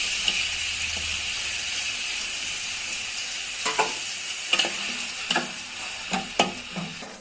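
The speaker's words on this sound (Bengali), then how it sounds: "এখন তেলটা গরম হয়ে গেছে, গরম তেলে পেঁয়াজগুলো ভেজে নিচ্ছি।" Onions fry in hot oil for a dried-fish curry, a steady close sizzle running throughout, with a few sharp stirring scrapes and clatters of a spatula toward the end.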